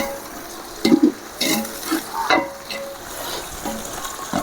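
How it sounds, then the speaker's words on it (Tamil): Mint leaves frying in a pan for a spicy masala chicken biryani give a close, steady sizzle, with several distinct stirring scrapes and clatters over the first half. "அடுத்தது மல்லி வதங்கிட்டு இப்போ புதினா இலையை போடுறோம்."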